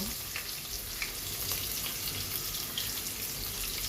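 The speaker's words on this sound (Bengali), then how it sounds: "তেলটা গরম হয়ে গেছে এতে আমি কেটে রাখা পেঁয়াজগুলো দিয়ে দেব" Chopped onions frying in hot oil for Dhaka-style beef biryani, a dense continuous sizzle with faint crackles and occasional stirring, close and fairly quiet, no talking.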